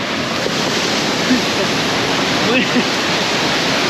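Powerful rushing waterfall in Crimea roaring steadily nearby, with a voice briefly counting down over the constant noise.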